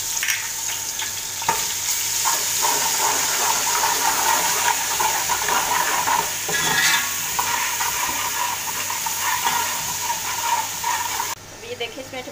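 Ginger and garlic fry in oil in a pan for chana dal pulao, a loud, continuous sizzle with stirring scrapes throughout, and a voice faintly heard at times.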